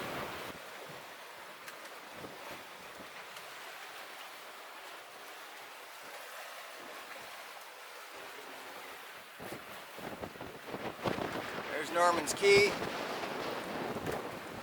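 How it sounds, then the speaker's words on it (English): Steady 18 to 20 knot wind roars over open water aboard a sailboat with surf-like wash, rising louder toward the end as someone speaks briefly over it. "Very windy. We got 18 to 20 knots."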